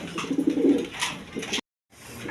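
High-flying Giribaz pigeons cooing close by, a low throaty burble repeating for over a second before a brief silent gap, then the murmur resumes faintly.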